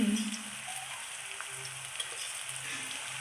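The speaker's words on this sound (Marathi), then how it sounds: "जे टाकलं ते आपण नीट फ्राय करून घ्यायचं" Spices with turmeric and black masala fry in oil for a tempering, making a faint, even sizzle close by, with a few light stirring clicks.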